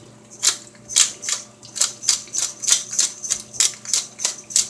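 Black pepper is ground with a hand mill into a pan of veggie linguine with turmeric, giving a steady run of about a dozen crisp, rhythmic clicking cranks, close and fairly loud, with a faint low hum underneath.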